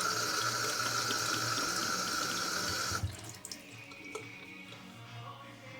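Tap water runs steadily into a sink during washing and soaping, a loud continuous splashing that stops abruptly about halfway, followed by a few faint drips and handling sounds.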